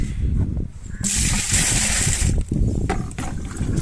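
Water pours in a steady, loud rush for over a second onto jaggery pieces for bio enzyme, then splashes and trickles with some handling noises.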